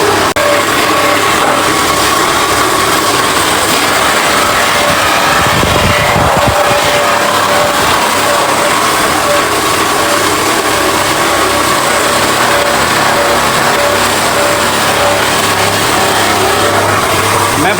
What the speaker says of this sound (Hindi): मशीन का जो शोर है ना वो चेक करावा भाई